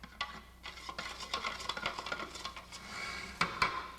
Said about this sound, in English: Now I stir this one more time.